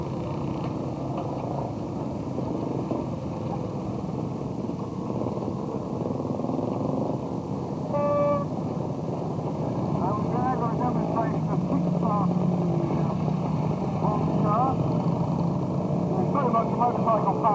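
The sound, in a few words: classic British twin motorcycles on parade, Matchless and Norton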